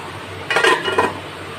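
A cooking pot gets its lid set on with a brief metallic clink and rattle, close and moderately loud over a quiet kitchen background, then fades out.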